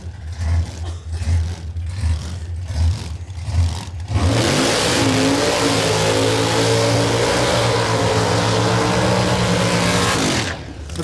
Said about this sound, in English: It's a big burnout, but it's not a big skid.